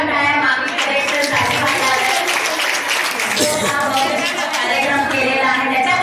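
A crowd at a haldi kunku ceremony applauds, a steady dense patter of many hands clapping throughout, mixed with a busy hum of voices.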